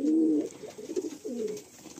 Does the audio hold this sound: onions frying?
no